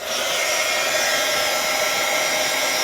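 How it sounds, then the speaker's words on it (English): A heat gun blows steadily while drying freshly wiped ink on a Halloween craft piece, with a loud, constant broadband whoosh running unbroken throughout and no voices. "take your heat gun and just a little heat"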